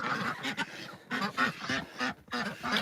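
A small flock of homestead ducks quacks in winter, near and clear, about five distinct bursts of rapid nasal calls separated by short pauses.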